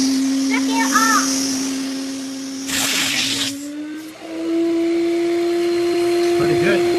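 A Vacmaster VBV1210 wet/dry shop vacuum, a 4-gallon, 5 horsepower unit, runs with a steady loud whine and rushing airflow that shifts in pitch partway through, while a voice and other talk cut in over it.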